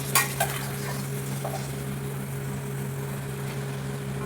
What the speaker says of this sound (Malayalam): ഇരുമ്പുളി ചേർത്ത് നല്ല പോലെ യോജിപ്പിക്കണം.